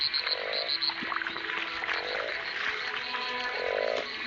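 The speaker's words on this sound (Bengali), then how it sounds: "ওটা বড় ব্যাং" Frogs croaking on a rainy night in rural Bangladesh, repeated rhythmic croaks from a few frogs, fairly faint and distant over a steady background of insect and rain noise.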